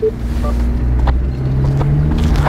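A 2024 Subaru Crosstrek engine hums steadily at close range while driving off-road, its low tone shifting and rising slightly toward the end, with some wind noise.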